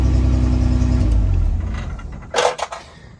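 A Toyota Land Cruiser engine runs with a strong, low rumble that fades down over the first half, followed by a couple of sharp mechanical clunks near the end.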